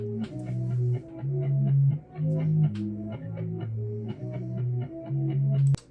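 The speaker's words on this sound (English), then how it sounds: "I actually accidentally reversed the chorus sample" Reversed chorus sample inside a beat built in FL Studio, looping backward-swelling tones in a steady rhythm with ticking percussion, fairly quiet and with no talk.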